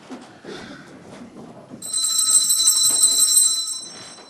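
A service bell rings to summon a butler, a bright, sustained metallic ringing lasting about two seconds over soft background talk and room noise.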